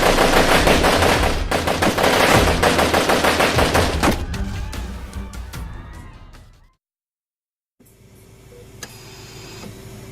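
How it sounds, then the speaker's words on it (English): Loud, rapid automatic gunfire rattles in dense bursts of many shots, thins out, cuts to sudden silence, then resumes with fainter background noise and a single sharp crack. "They shot you like 50 times!"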